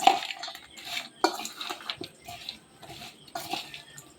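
Spice masala is mixed into chanachur in a bowl, producing uneven crunchy rustles and light clinks of a spoon against the bowl, close and fairly soft.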